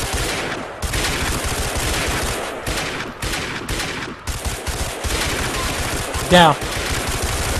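Dense, rapid bursts of automatic gunfire rattle almost continuously through a SWAT shootout in the LCPDFR police mod for GTA IV, loud and close, with brief pauses and a shouted voice over the shooting.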